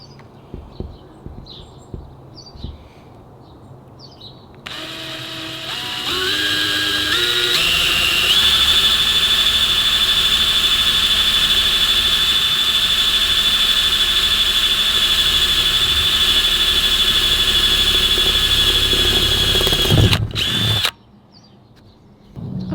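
A power drill whines steadily for about fifteen seconds as it bores a skylight opening in a VW Crafter camper van roof, moving up through bit sizes, its pitch climbing in steps, loud and close, then cuts off abruptly.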